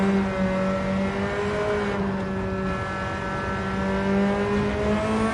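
A Nissan Silvia S13 with a K engine swap in Gran Turismo 7 holds a steady, loud engine drone with strong harmonic tones that dip and rise slightly as the throttle is blipped, running continuously without speech.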